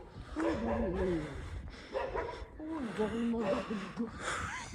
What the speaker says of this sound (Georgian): აი ეს ლეკვია